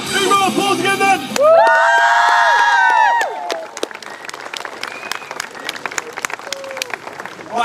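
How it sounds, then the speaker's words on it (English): Airshow crowd applauding and cheering after a Royal Marines unarmed commando display, loud massed clapping with whistles and shouts, then scattered claps fading out. "Big round of applause again then."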